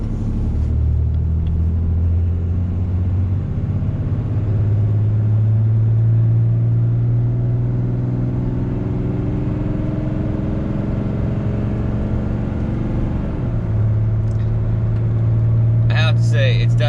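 A Ram pickup with a Cummins diesel engine accelerates onto a highway, its deep engine drone climbing steadily through the gears and loud throughout, with a brief shift dip near the end.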